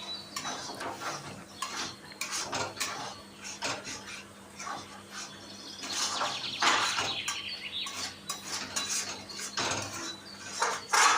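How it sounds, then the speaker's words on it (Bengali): Soaked semolina, sugar and banana paste stirred in a pot, with soft scraping and clinking of a utensil against the metal that comes in irregular bursts, fairly faint and close. "এইবার নাড়াচাড়া করতে করতে একদম আঠা আঠা করে নেব।"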